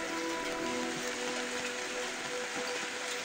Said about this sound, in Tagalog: Kaya yan, patuloy talaga sa paglakas ng ulan.